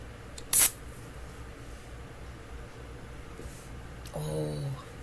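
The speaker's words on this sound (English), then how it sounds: "room spray, lemon lavender." A lemon lavender room spray gives a short, sharp hissing spritz in a quiet indoor room, followed moments later by a brief hum of other household noise.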